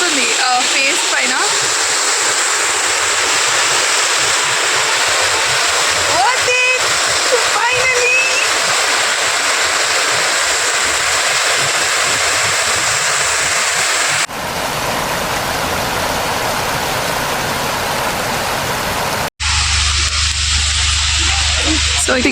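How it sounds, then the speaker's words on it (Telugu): Spray and rushing water at Rhaeadr Dyserth waterfall near Rhyl, a loud continuous hiss with a voice briefly audible, the sound changing abruptly twice as the scene cuts. "2 తుప్పర్లు ఎట్లా పడుతున్నాయో ఆ సౌండ్కి"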